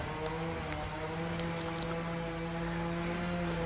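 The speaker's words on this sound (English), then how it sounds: "Someone's using a chainsaw." A steady droning chainsaw engine hum with a constant buzzing whine runs throughout, distant and unbroken in the background.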